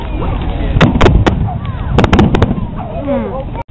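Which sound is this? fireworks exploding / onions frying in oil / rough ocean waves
fireworks exploding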